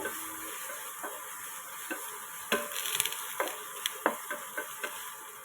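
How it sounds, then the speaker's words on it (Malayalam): Onion, green chilli, curry leaves and garlic softly sizzle in a hot pan, with occasional spoon scrapes and taps against the metal as they are stirred, steady and fairly quiet with no talking. "ഇത്രയും ഇട്ടതിന് ശേഷം നന്നായിട്ടൊന്ന് വഴറ്റി കൊടുക്കാം"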